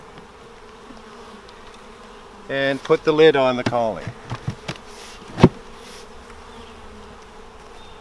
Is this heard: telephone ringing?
no